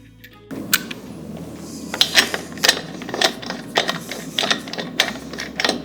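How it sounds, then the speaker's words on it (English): Lug nuts on a Chevy Camaro being tightened back onto a spare wheel with a 22 mm socket, a series of sharp ratcheting clicks in quick irregular bursts, close and fairly loud with no talking. "We'll use the 22 millimeter socket to put the factory lug nuts back on to secure the Modern Spare."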